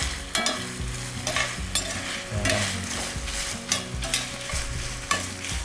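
Ingredients for ginataang sinantolan are stirred in a pan, with a spoon scraping and clattering in an irregular rhythm over a steady, close sizzle.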